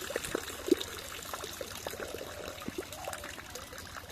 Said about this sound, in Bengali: এইভাবে পানিটা নিংড়িয়ে বা পানিটা ফেলে দিবেন